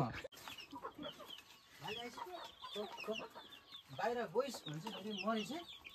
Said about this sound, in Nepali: यो चाहिँ आजको हाम्रो भाले यो रातो भाले